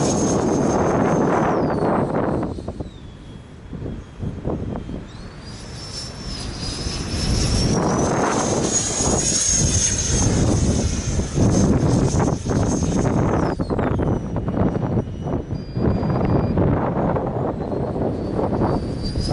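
An orange Rafale RC jet with a 105mm 12S electric ducted fan whines loudly as it flies in strong wind, the high turbine pitch rising and falling through passes amid heavy wind buffeting on the microphone.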